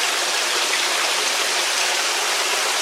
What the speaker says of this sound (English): we got that fountain going, this fountain's going, water's coming out of his mouth.